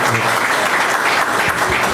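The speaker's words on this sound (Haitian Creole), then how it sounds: "On applaudit très chaudement," Audience at a health ministry ceremony in Jérémie applauding warmly for the departmental director, a dense, loud, sustained round of clapping that fills the moment without speech.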